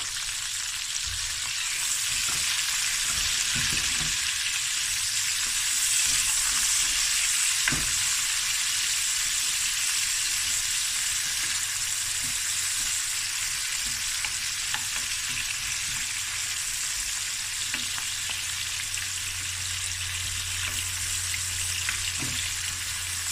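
Curry leaves and onions sizzle steadily in hot oil, a dense continuous frying hiss held at close range for the whole stretch, with no voices.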